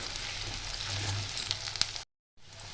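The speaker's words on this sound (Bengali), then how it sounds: "পেঁয়াজটা আমার অনেকটাই ভাজা হয়ে গেছে" Chopped onion frying in hot oil makes a steady, moderate sizzle with a few sharp crackles, then cuts to a brief silence before the sizzle resumes.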